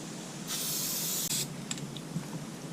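Aerosol spray paint hisses steadily onto plastic panels from a 2020 Suzuki DR650 motorcycle, one loud continuous burst lasting about a second, then a few short spits and taps.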